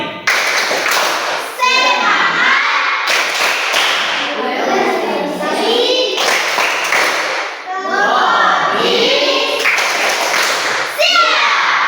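A classroom of children performs a rhythmic clapping chant, voices chanting in unison between sharp bursts of group clapping that recur in regular cycles, loud and close.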